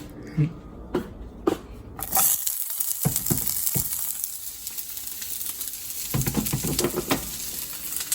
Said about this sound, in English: So I'm just heating up some coconut oil like this. And I'm gonna start with onion.